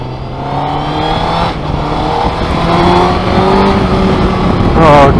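A sportsbike engine pulls hard under acceleration, its rising harmonic whine climbing in pitch with wind rush throughout, loud and close.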